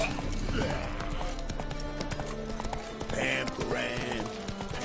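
Hooves of Roach, the horse in Witcher 3: Wild Hunt, clip-clop in a steady trotting rhythm, close and moderately loud beneath game music and a voice talking.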